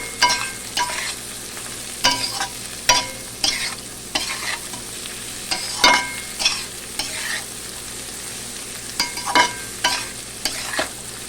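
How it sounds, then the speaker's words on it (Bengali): Salt, turmeric and black pepper being stirred into a frying pan for flattened-rice pulao, a soft background sizzle punctuated by irregular sharp scrapes and taps of a spatula against the pan. "এবার নুন হলুদ গোলমরিচ পরিমাণ মতো নিয়েছি এটা দিয়ে দিলাম দিয়ে একটু নাড়াচাড়া করে নেব"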